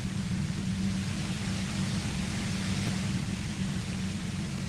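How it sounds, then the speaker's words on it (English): Steady, loud hiss of static runs the whole way through over a low humming rumble, with no break or change in level. "The explosion of static you're hearing"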